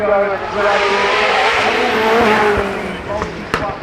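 A road-legal supercar named after a racehorse drives past at the Goodwood Festival of Speed, its engine a loud, steady roar with a brief tire squeal, while people talk over it throughout.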